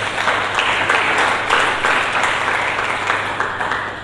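Congregation at a Sunday church service applauds steadily and loudly for a few seconds, a dense wash of many hands clapping with a faint low hum beneath.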